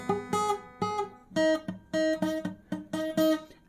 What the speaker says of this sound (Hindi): डोंट गेट फ्रस्ट्रेटेड बाय बज नोट्स। कुछ ऐसी आवाज़ आएगी,